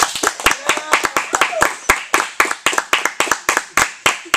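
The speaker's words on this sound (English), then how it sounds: "Let's have a round of applause for tonight's guest, Jared Fox." A crowd claps steadily, a dense run of sharp hand claps close by with no voices over it.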